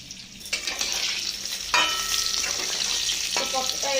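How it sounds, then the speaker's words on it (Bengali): Pointed gourd pieces frying in hot oil, a steady close sizzle with a few louder bursts as the pieces are stirred or turned, no talk. "পটলগুলো আমার ভাজা হয়ে গেছে,"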